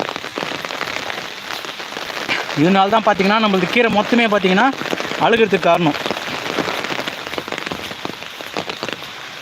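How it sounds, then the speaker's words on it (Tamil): Steady heavy rain patters across the whole stretch while someone talks in the middle, the downpour continuing before and after his voice. "நல்ல மழை நல்ல மழை தான்பா சரியான மழை"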